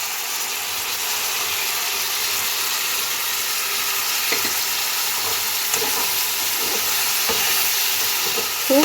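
A chilli soya sauce mix is poured into a hot frying pan and hisses in a broad, steady sizzle, with a few light stirring knocks near the end, close and with no voices.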